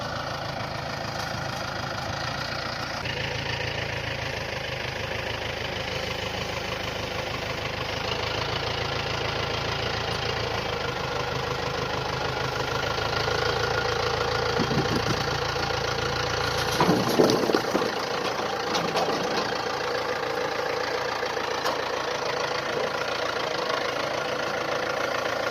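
A tractor engine idles steadily on an Alaska homestead, a continuous mid-low mechanical drone with a slight knock, close and even, briefly rising before settling back.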